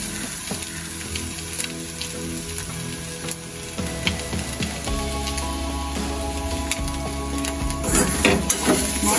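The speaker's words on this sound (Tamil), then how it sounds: "அடுப்பை குறைச்சி வச்சுக்கொண்டு இப்போ இதை அப்படி வறுத்தெடுக்கணும்." Stingray pieces for thirukkai varai fry in a pan over low heat, giving a steady, close sizzle with scattered crackles and occasional stirring scrapes, with no voices.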